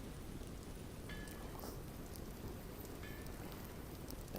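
Steady rain falls over a Japanese-style village in Vintage Story, a continuous broadband patter filling the scene with faint higher drips, no voices.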